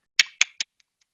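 A cement bond log tool from oil and gas well work fires a quick burst of sharp clicks, three strong then two faint, close and isolated.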